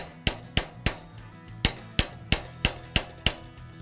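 A nylon mallet strikes a metal bracelet on a forming stake while shaping it concave, giving about ten crisp, evenly spaced taps, each with a short metallic ring.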